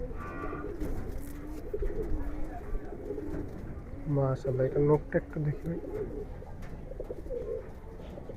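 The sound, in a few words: Giribaz pigeon cooing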